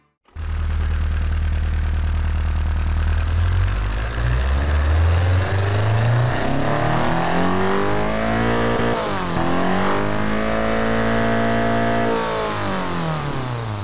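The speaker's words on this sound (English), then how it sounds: "let's give a listen to what this nitro fuel engine sounds like right now" A 1.8-liter inline-four burning nitromethane fuel in Automation/BeamNG.drive starts up and revs, its tone sweeping up and down through several rising pulls, loud and close with no talk over it.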